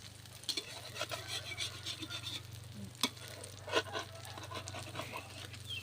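Egg with cha-om vegetable frying in a pan, a soft steady sizzle with occasional stirring scrapes and taps, low steady hum beneath, fairly quiet and close.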